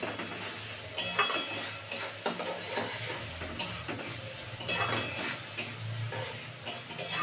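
Spices frying in oil for Bengali musur dal with katla fish head, a spoon scraping and stirring the pan in uneven strokes over a steady close sizzle, with occasional metallic clinks.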